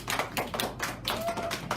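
Classroom applause from students during a practicum lesson, a short burst of scattered hand claps at moderate volume with faint voices underneath.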